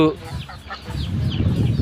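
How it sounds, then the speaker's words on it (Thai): Farm chickens cluck in short, irregular bursts over a low, steady rumble, with a few sharper calls rising above the flock. "ไก่เดี๋ยวผมให้ดูไก่หน่อยนะฮะไก่นี่นะครับ"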